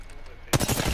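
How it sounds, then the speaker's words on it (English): Sudden rapid automatic gunfire in the battle royale shooter Apex Legends, a close, loud burst of repeated shots that starts abruptly halfway through after a quiet lead-in and keeps going to the end. "They just shot at Scrap."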